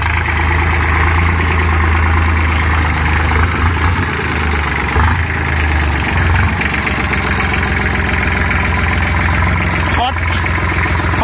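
An ISEKI TS3110 three-cylinder tractor engine idles steadily with a deep, chugging rumble that holds at an even pace throughout.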